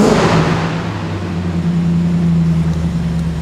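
Renault Megane 4 RS engine rumbling steadily at idle or low revs, a continuous deep drone with a strong low hum, close and loud throughout with no pauses.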